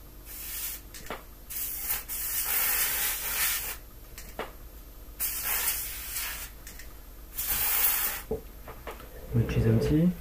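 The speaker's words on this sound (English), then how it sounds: "Some contact cleaner." Contact cleaner sprays onto an Intel D945GSU desktop motherboard in several short hissing bursts with pauses between, close by, ending with some handling noise.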